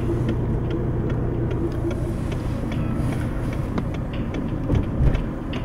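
A VW Golf 5 cruising in fifth gear without the accelerator pedal, heard from inside as a steady low engine and road rumble with constant tyre noise and a small bump near the end.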